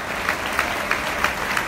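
Audience applause fills a stage event, a steady dense clapping wash from a crowd welcoming a honored young guest at a Boys & Girls Clubs youth-of-the-year gala in Puerto Rico, with no voices over it.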